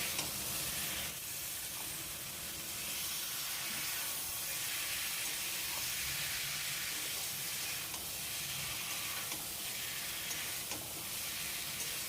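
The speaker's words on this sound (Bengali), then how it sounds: "এখন ফুলকপি আলু দিয়েও আমাদের 4-5 মিনিটের জন্য মশলাটাকে আবারও কষাতে হবে।" Spices sizzling and frying with cauliflower and potato in a pan for a Bengali rui fish curry, a steady continuous hiss and crackle with faint stirring scrapes, close and even throughout.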